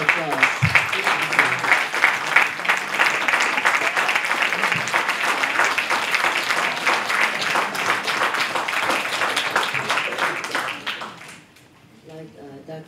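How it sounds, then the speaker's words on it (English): A college audience gives a robust round of applause, dense rapid clapping holding strong for about eleven seconds before dying away as a voice begins speaking. "We do have a robust round of applause."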